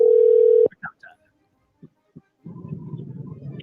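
A telephone line's steady dial tone is cut off, followed by a few brief beeps and clicks of dialing, then a low buzzing connection sound as the call goes through.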